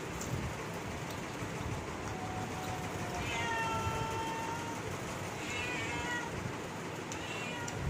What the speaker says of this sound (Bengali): বিড়ালটা প্রচুর ডাকে